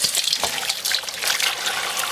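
Tap water runs steadily over freshly picked vegetables being rinsed, a close splashing trickle with small bursts as the produce shifts under the stream.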